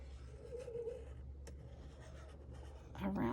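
A pen drawing carefully on handmade paper, a soft, faint scratching that runs steadily for a few seconds before a louder rustle at the end.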